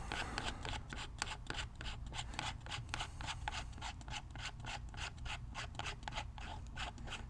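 A threaded back cap twisted off a paintball gun, its bolt guide built into the cap: a rapid run of quiet scraping, ratcheting rubs, close and faint.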